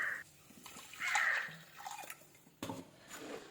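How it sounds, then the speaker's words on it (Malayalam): Water is poured into a pan of frying fish curry masala, giving close splashing and trickling bursts that stop and start, with a sharp louder gush near the end. "വെള്ളം ഒഴിച്ച് കൊടുക്കാം"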